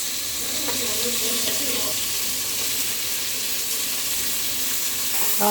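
Tomatoes fry in a pan with a soft continuous sizzle, with occasional scraping stirs near the start and a clink at the end, fairly faint and steady.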